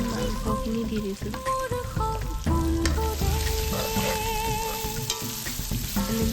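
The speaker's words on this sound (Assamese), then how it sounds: "ভালকৈ ভাজি ল'ম।" Local chicken pieces with turmeric sizzle and spatter steadily in a hot pan, with stirring scrapes throughout and soft tonal music underneath.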